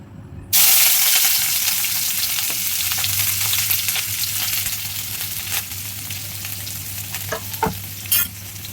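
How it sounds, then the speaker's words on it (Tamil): Onions and mustard seeds fry in hot oil in a kadai, a loud steady sizzle with scraping stirs and a few sharper clinks near the end. "இப்போ இது நல்லா ப்ரௌன் கலரில் ஆகிற வரைக்கும் நல்லா கிளறி விட்டுக்கலாம்"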